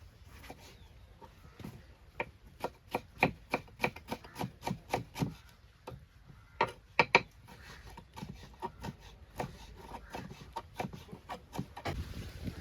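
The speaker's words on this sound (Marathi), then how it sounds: "तर मी टोमॅटो कापते एक" A knife chopping a tomato for a Malvani chicken dish on a home wood-fired stove: quick, crisp cuts against a board in fairly even bursts with brief pauses, close by, with no talking.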